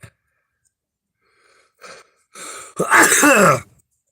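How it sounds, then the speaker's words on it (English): A single sharp sneeze bursts out near the mic after a couple of short breathy intakes, loud and close in an otherwise quiet room. "Let me sneeze a moment."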